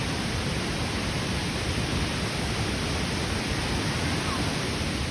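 Continuous loud hiss and rumble of falling water, unbroken and even throughout, as if standing near the powerful Krathing Waterfall in Khao Khitchakut National Park, Chanthaburi, Thailand.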